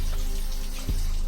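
Tap water runs steadily over a teeth whitening mouth tray being rinsed under a faucet, a close, continuous rushing splash with a brief dip in flow just before the one-second mark.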